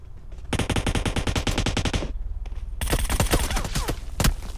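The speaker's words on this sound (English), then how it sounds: "We got automatic fire. This is bad news," Automatic gunfire in a first-person shooter video game: a long rapid burst of loud, close shots, a brief pause, then another stuttering burst mixed with scattered single shots, with no voices.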